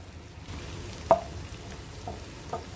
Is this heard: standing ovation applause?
no